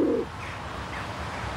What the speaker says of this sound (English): That pigeon's stalking me.